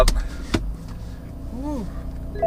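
A BMW M4 with a 6-speed manual starts up: a sharp burst as the engine catches, then a brief rising and falling rev over a steady idle hum, fairly close.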